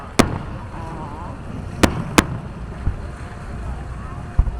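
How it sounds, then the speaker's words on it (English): Fourth of July fireworks at Tacoma's Freedom Fair, a few sharp distant bangs scattered over steady wind and outdoor noise, with people talking quietly nearby. "I love the fireworks."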